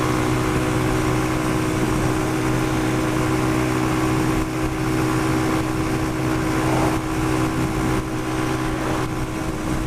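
A Pioneer Torro XF125S 125cc motorbike engine drones steadily while riding at around 60, with constant loud hum and wind noise and no speech.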